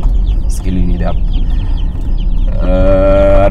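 Day-old broiler chicks packed a hundred to a box in a delivery crate, peeping in a dense, continuous chorus that swells louder toward the end, with faint voices in the background.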